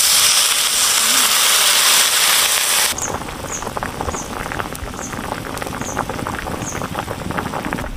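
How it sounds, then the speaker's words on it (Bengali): Water is poured into a tilapia and raw banana curry, loud sizzling for about three seconds, then the curry settles into a quieter, steady bubbling simmer with faint pops. "এখন আমি পরিমাণ মতো জল দিয়ে দেব।"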